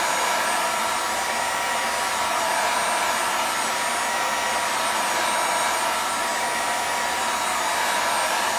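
Steady, loud whooshing blast of a heat gun or hair dryer heating plastic parts of a model aircraft build, running continuously and evenly with no talk.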